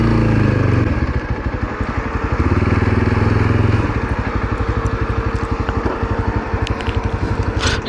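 A motorcycle on a long ride from Ooty to Kanyakumari slows to a stop at a parking spot, its engine going from a louder rumble to a steady, close, rhythmic idle putter.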